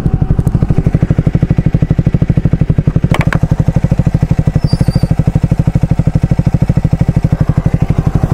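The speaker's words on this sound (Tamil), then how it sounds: "இந்த பைக்கினுடைய எக்ஸாஸ்ட் நோட் இப்போ நம்ம வந்து கேட்கலாம்." Triumph Speed 400 motorcycle idling with a steady, loud, close thumping exhaust note, even pulses throughout, and a brief mechanical click partway through.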